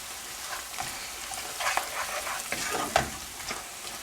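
Caramelizing onions sizzle and fry in a pan, seasoned with salt and pepper, while a utensil stirs through them in uneven scraping bursts, close and steady, with no voices.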